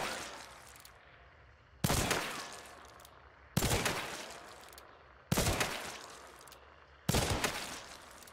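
Uppercut Deadeye Precision rifle with a Deadeye scope fired in Hunt: Showdown, four loud single shots spaced about two seconds apart, each a sharp crack with a long echoing tail that fades before the next.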